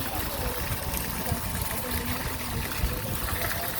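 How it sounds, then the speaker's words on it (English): Waterfall at Devon House in Jamaica, a steady broadband rush of falling water that stays close and loud throughout, with faint voices under it. "Look at this waterfall."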